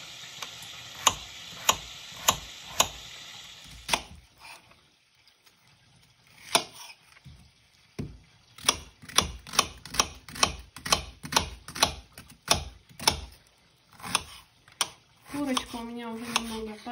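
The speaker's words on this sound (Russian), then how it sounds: "Картофель нарезаю кубиком." Potatoes being diced into cubes on a cutting board while chicken fries nearby for a pumpkin stew, a rapid run of sharp, close knife chops in steady rhythm, pausing briefly before resuming with quicker strokes and a faint background sizzle.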